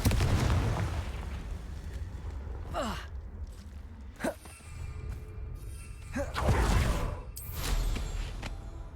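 A Confringo blasting spell goes off in Hogwarts Legacy, giving a few loud, sharp bursts with a rumbling low-end boom over a steady game backdrop.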